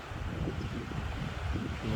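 Wind and sea waves wash against the shore at Derbent, a steady rumbling roar with surging low swells and no voices.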